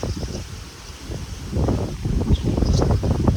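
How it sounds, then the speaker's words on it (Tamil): Wind gusts blow across an outdoor lakeside spot, buffeting the microphone with a rough, steady rumble that strengthens midway, with rustling in the background. "காற்று இந்த பக்கம் அடிக்குது ஃப்ரெண்ட்ஸ்."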